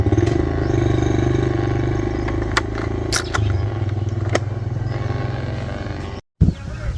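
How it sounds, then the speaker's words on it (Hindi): A loud motorcycle with a modified aftermarket silencer running close by, deep throaty exhaust rumble, some clattering clicks on top and a brief cutout near the end. "ये देखें, बेजा शोर, अजीब व गरीब सलेंसर लगा देते हैं मोटरसाइकिल"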